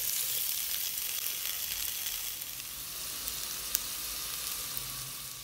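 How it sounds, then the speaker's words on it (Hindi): Potatoes roast in hot oil with dried oregano, giving a steady, even sizzle with soft crackles and an occasional sharper pop, close up and without talk. "आलू को इनमें मैं रोस्ट करूँगी इस ऑयल में।"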